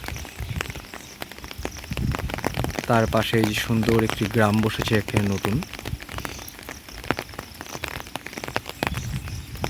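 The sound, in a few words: rain falling on a pond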